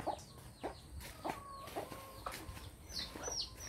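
Fighting cocks clucking in a short series of sharp calls spaced about half a second apart, fairly close and clear over a low background hum, with no talking.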